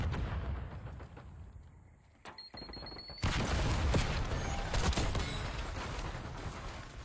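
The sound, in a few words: teammate gunfire in a video game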